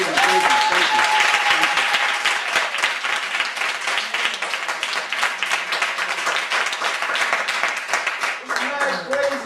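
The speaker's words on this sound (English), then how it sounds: "Let's clap it up for Saladin." An audience claps and cheers for a performer at a community event in Newark, loud sustained applause filling the whole stretch with voices mixed in.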